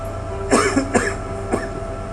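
A preacher giving a sermon coughs close to the microphone: two quick coughs together, then a third short one a moment later, over a steady low background hum.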